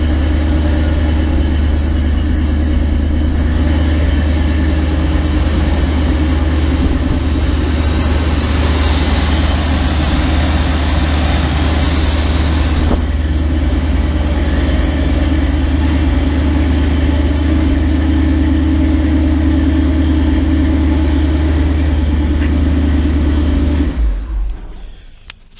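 Cold 1980 GMC engine with Holley Sniper fuel injection running at a high idle, a loud steady close rumble that holds for about 24 seconds and then cuts off abruptly.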